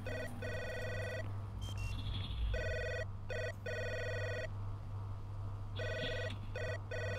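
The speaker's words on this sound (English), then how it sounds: "The phone's still ringing." Repeated double-burst telephone rings in the video game Three Minutes to Eight, sounding in regular bursts with short pauses over a steady low hum, fairly close and clear with no talk.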